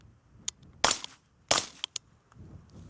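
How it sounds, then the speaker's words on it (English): Rifle shots fired during a shooting drill: a few sharp reports with a couple of lighter clicks in between, moderately distant and spread over a few seconds, with no talking. "Getting your rifle back up. Taking 2 more final shots."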